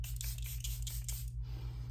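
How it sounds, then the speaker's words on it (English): Several quick, close hissing pumps of makeup setting spray are misted onto a face in rapid succession over a steady low hum. "So you spray it on your face."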